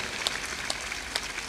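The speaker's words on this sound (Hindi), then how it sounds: "ताली बजाते रहो" An audience at a satsang claps steadily, a dense patter of hands with a few sharper accents, close and continuous without a break.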